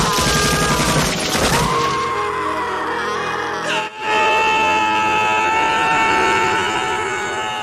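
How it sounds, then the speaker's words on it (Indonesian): Heavy gunfire fills a war film's front-line battle scene, a loud, dense volley that briefly drops out near the middle before the shooting resumes. "Sersan yang melihat gadis itu langsung memerintahkan untuk menembaknya."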